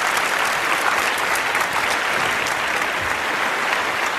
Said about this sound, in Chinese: 掌声欢迎杨先生来给我们讲讲为什